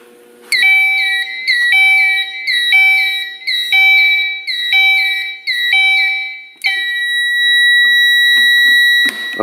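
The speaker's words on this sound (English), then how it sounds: "all 3 extra devices that I have on the system, which is the siren, the horn strobe, and the corridor light, all 3 will go off at the same time" A medical alarm system goes off after a pull cord is triggered, with its siren and horn strobe sounding. Repeated loud electronic tone bursts give way to one long sustained tone, close and alone.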